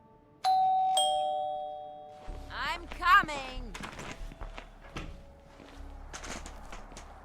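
A two-tone doorbell chime rings out clearly near the start, followed by scattered footsteps, bumps and brief voices in a game setting.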